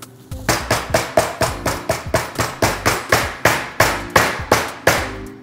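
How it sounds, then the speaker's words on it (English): Lamb chops pounded flat with a meat mallet for Milanese, about a dozen heavy, evenly spaced thuds in a steady rhythm, close and loud with no talking. "if you're going to take the fat off, take it off before you pound them"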